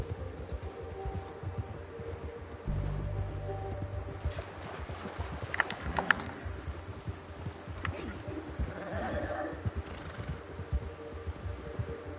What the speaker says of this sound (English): Tie up my horse.